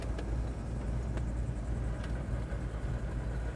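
A 1970 Ford Mustang Mach 1 engine idles steadily, a low, even rumble held close with no talk over it.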